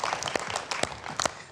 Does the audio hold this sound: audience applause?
yes